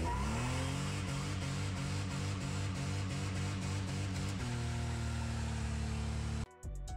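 V6 drift car engine revving hard against a fast rev limiter, with a rapid stuttering rhythm of loud, close pulses that then settles into a higher steady drone before cutting off abruptly.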